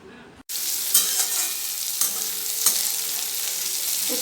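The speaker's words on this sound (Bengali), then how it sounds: "উচ্ছে ভাজাটা বসিয়ে দিয়েছি" Bitter gourd slices frying in a pan give a sudden onset of bright, steady sizzling, with a few sharp stirring scrapes over the constant hiss, close and alone.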